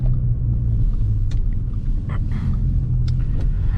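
A 2013 Audi S4 drives along the road, producing a steady, loud, low engine and road rumble from inside the car, with a few faint clicks and no speech.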